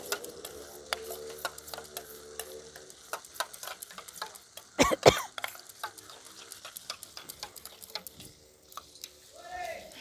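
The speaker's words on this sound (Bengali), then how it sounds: "দেখুন টমেটো আর আদাটা ভাজা হওয়ার সঙ্গে সঙ্গে কীরকম তেল ছাড়তে শুরু করেছে।" Tomato and ginger fry in oil with a paste of ground cumin, coriander and turmeric. A soft sizzle runs under repeated scraping stirs and ticks from a spoon, with a louder clatter midway.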